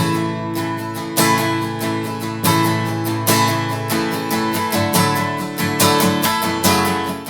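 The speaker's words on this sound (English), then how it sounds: "They actually fill it in with a lot of more strumming." Acoustic guitar strummed in a busy, syncopated pattern with steady accented chord hits, close and loud with no talking, playing a worship song.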